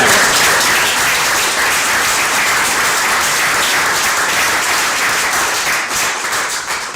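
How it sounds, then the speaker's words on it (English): A city council chamber fills with sustained, dense applause from council members and citizens, loud and close, holding steady for several seconds before easing slightly at the end. "So if I would ask the city council and the citizens in the room to give her a round of applause."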